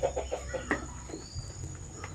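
Sampin and Basilan chickens cluck in short, faint bursts against a low background hum, with a few scattered calls close by.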